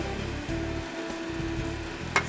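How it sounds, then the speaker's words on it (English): Onions frying in a pan for meatball white gravy, a steady close sizzle with faint scraping stir strokes, continuous and fairly loud without talking. "So we're gonna stir this constantly"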